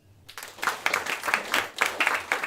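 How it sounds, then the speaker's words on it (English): A comedy club audience claps in a short burst, a few dozen hands giving quick uneven rhythmic pulses that start abruptly and stay close and lively for a couple of seconds. "Clap your hands if you've traveled to Europe."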